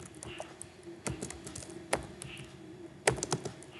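Keys tapped on a computer keyboard while entering a command on an Ubuntu server, a quiet run of irregular clicks with a few sharper strokes and a brief murmur of speech.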